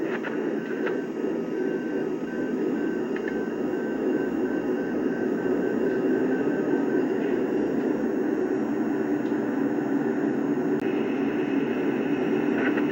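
An Atlas O scale Berwick model locomotive starts up with a steady, continuous mechanical rumble and drone. A faint electronic tone runs briefly at the start.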